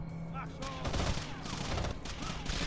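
Rapid machine gun bursts in the Rainbow Six Vegas shooter game, loud and close with overlapping rattling shots, a voice talking over the gunfire.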